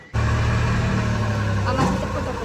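A sand delivery truck arrives at a house being plastered, its engine starting up abruptly and holding a steady, fairly loud mid-pitched hum with a brief rise near the end.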